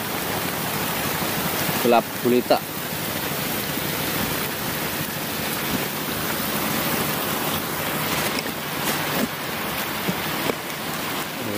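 Steady heavy rain hiss with gusting wind roar during a sudden storm at sea aboard a fishing platform, continuous throughout, with a voice speaking briefly over the storm.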